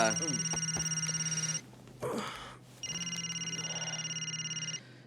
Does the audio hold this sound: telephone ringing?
yes